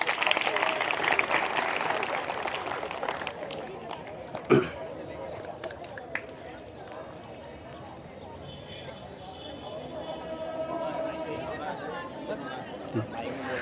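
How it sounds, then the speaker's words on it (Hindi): A school audience at an Independence Day event applauds a class 12 student speaker, with loud crowd clapping at the start that fades into murmuring chatter and nearby talk. "ज़ोरदार तालियों से उनका स्वागत कीजिए"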